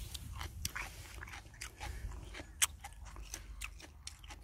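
A Jindo dog named Boksil crunches and bites on a red radish, close by, with a steady series of crisp chewing crunches and one sharper snap, no talking.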